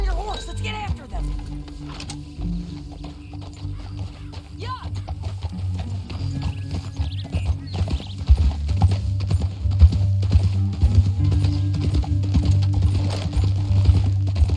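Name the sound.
horse hooves riding, Red Dead Redemption 2 video game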